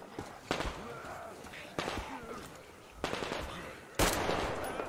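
Gunfire in Metro Exodus comes as four sharp bursts spaced about a second apart. Each crack is followed by a short echoing tail, with faint voices under the shots.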